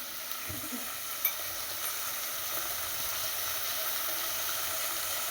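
Vegetables for a veg pulao fry in a pan with oil as turmeric is added and stirred: a steady, close sizzle with a small clatter of stirring near the start, continuing evenly without speech.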